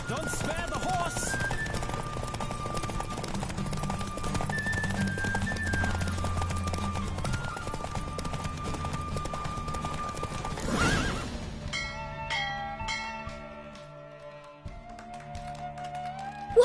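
Galloping horse in a Witcher 3 race, hooves hammering steadily up close with a neigh near the start, ending in a loud burst around eleven seconds. The hoofbeats then fade, leaving sparse music and a final sharp thud.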